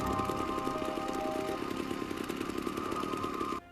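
A chainsaw's engine drones loud and unbroken, rough and buzzing, for several seconds, then stops abruptly.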